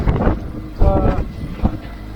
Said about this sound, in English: We definitely got some wind. You can probably hear it on the mic